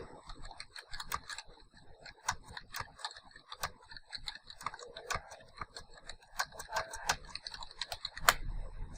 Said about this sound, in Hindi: यहाँ पर मैं कुछ टेक्स्ट टाइप कर लेता हूँ